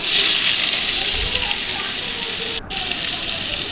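Shrimp frying in hot mustard oil with salt and turmeric in a kadai, a steady close hissing sizzle that holds evenly throughout with a brief dropout near the end.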